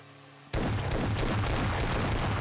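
Shotgun fire from the mobile battle-royale game PUBG Mobile Lite, with dense, loud gunfire bursting in after a quiet half-second and continuing as a rapid, steady barrage to the end.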